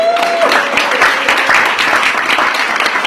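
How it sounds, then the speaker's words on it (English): Steady applause from a Toastmasters leadership workshop crowd, dense overlapping claps filling the whole moment at a loud, even level. "Give her a round of applause."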